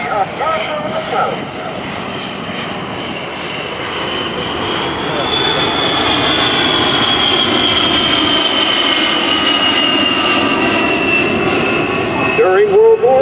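An A-10 jet roars past in a dynamic flying display at the Singapore Air Show, its loud engine whine swelling and holding while an announcer talks over the public address.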